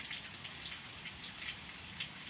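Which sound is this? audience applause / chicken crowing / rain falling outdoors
rain falling outdoors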